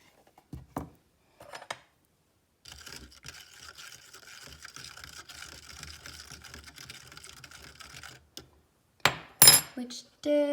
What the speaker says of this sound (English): I'm going to add the baking soda.